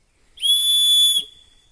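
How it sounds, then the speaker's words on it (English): Airsoft player's whistle blown once, a single shrill steady tone lasting under a second, close and loud with nothing else around it. "And my whistle."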